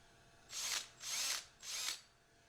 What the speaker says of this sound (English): That is a flap sander, and I believe it is 60 grit.